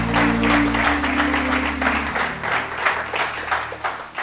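A church congregation bursts into loud, sustained applause and clapping for Jesus, a dense crowd wash over a fading low musical tone, with faint voices mixed in.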